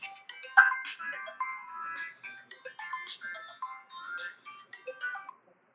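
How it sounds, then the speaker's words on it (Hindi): A mobile phone ringtone plays during a maths lecture, a bright, repeating electronic melody with tonal notes in a steady pattern for several seconds before cutting off, fairly quiet and heard alone. "सॉरी फोन आ गया मेरा"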